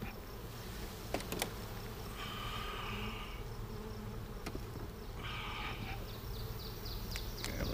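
A low, steady honey bee buzz hums throughout from inside a hive, faint and continuous, with occasional closer passes of individual bees rising briefly above the drone.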